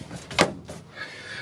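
The freezer door of a cheap salvage camper is handled: a quick muffled thud and latch click, then a softer knock and a faint rattle, close and fairly quiet.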